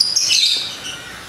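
Green leafbird (cucak ijo), a caged songbird, giving a brief bright chirping phrase up close that fades quickly.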